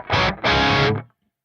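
Electric guitar played through a Friedman Smallbox amp model on an Axe-Fx III with an 808 drive: two loud, distorted chord strums, the second held briefly before being cut to silence.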